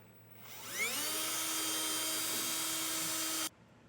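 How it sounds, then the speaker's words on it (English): A power drill boring holes into the steel frame of a 2024 Jeep for a Roadmaster Direct-Connect base plate kit, spinning up to a steady high whine that holds for about three seconds before cutting off abruptly. "But just take your time here and get these drilled out."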